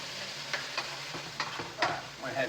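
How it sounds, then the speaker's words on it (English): Coleslaw mix sizzles in a hot pan for an egg roll bowl while a utensil stirs and scrapes it in several distinct strokes over a steady frying hiss. "I'm just softening up this coleslaw mix just a little bit, kind of making all those flavors kind of melt together."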